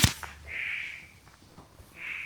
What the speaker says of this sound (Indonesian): Itu suara kodok itu bang.